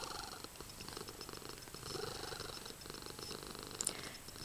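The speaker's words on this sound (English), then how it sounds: "All he ever does is purr. He purrs." A cat purrs close up in a continuous, soft rumbling rhythm, with a small scratchy noise near the end and no talking.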